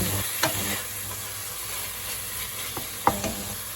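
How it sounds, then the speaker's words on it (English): Onion, bacon and garlic cook in a pot for pumpkin and bacon soup, giving a continuous low sizzle broken by a few sharp clacks of a spoon against the pot. "In this first stage, you know, cooking off the onion"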